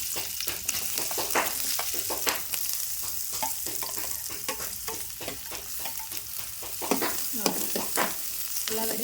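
Finely chopped onions frying in hot oil in a pan for a village-style vegetable curry, with close crackling sizzle and frequent scraping stirs, no voices.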